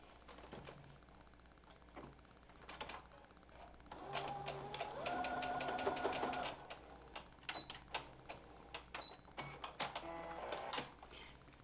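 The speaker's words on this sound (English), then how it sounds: "we're going to stitch both ends of the bias tape" A sewing machine stitches down the ends of bias tape on a fabric mask, running in a steady close whir for a couple of seconds amid softer handling clicks and taps before and after.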